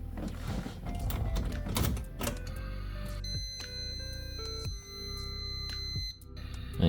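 An aftermarket oil pressure gauge being tested after installation on a car under restoration emits loud, sustained electronic beeping tones that keep stopping and restarting, with some mechanical clicks and clatter before the first tone.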